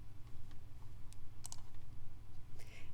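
A computer mouse clicking while cloud file storage is browsed, heard as several faint, sharp, isolated clicks spread over a quiet, low background hum.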